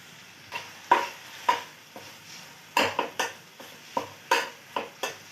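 Spoon scraping and tapping in a pan as lemon juice is mixed into a cooking tomato dish, a dozen distinct clinks in an irregular rhythm, close and fairly quiet with no talk.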